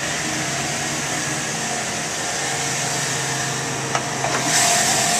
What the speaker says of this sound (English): Engine bay is very clean, nice sounding engine, and it runs very smooth